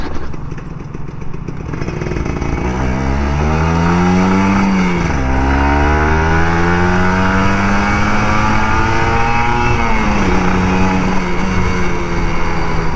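A Kawasaki Ninja RR 150 motorcycle engine revs loudly and steadily while riding, pitch rising and falling through gear changes, with one sharp drop and climb around the middle and a continuous close exhaust drone.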